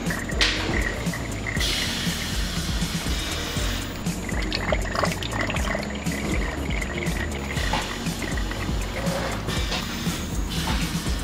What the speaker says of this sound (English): Let the machines pour the cheesecake into molds.